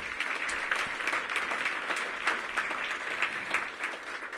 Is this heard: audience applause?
yes